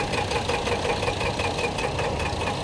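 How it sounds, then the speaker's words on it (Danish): Diesel engine of a 38-horsepower Fiat 312 tractor from Italy, running steadily with a dense, knocking rumble, loud and close, no voices. "Fiat fra Italien, en 312, diesel 38 heste, Henrik Løjrup Larsen, Vojens."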